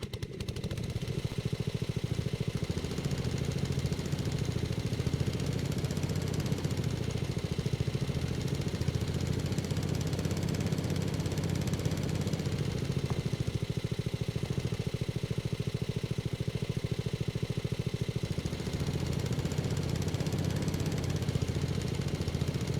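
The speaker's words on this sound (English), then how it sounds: "Okay, so I'm just gonna start mowing." Lawnmower running steadily while mowing a lawn, a continuous mid-pitched engine drone with slight load changes, heard alone without talk.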